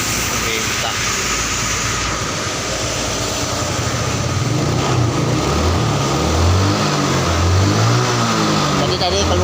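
A carburetted Yamaha Mio scooter engine running loud and close, its idle lifting into revs as the throttle opens, with rough rising engine tones and a steady broadband roar; someone speaks over it.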